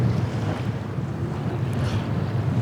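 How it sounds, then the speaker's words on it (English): Strong wind roars steadily around an anchored sailboat in rolly seas, with waves washing against the hull in a continuous close, loud rush and no voices. "It is so windy today and rolly at the same time."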